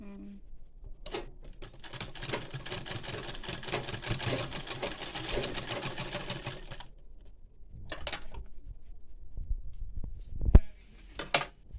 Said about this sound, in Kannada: ಹೊಲಿಗೆ ಹಾಕೋದು.